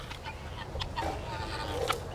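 Farm chickens cluck softly in short, scattered bursts, faint and a little distant over a low background hum, with no clear talking.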